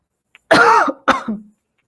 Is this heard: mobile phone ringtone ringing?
no